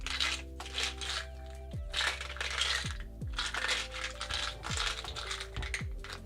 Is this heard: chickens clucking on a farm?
no